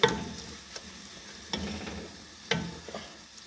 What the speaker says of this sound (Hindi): तो आप ज़रूर ऐसे 2 मिनट इसको भूनेंगे।